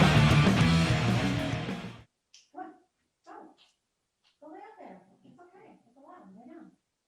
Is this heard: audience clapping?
no